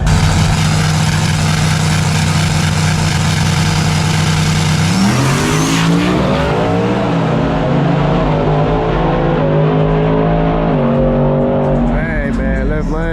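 Full-size trucks drag racing at a track: a loud engine drones steadily, then roars off and climbs through several shifts as the sound pulls away, close and dominant throughout.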